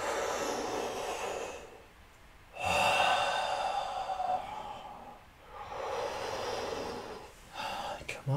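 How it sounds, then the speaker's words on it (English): Deep slow breathing during yoga in child's pose, with about three long, audible, airy breaths in and out, close and fairly quiet, rising and fading in a steady rhythm. "And take some deep breaths here."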